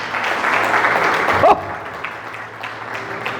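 A church congregation breaks into loud, dense applause for about a second and a half, then it cuts off abruptly and a quieter room tone with a voice follows.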